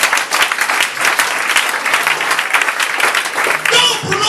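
A church congregation applauds in sustained, dense clapping that carries steadily through the whole stretch, with voices mixed in among the hands.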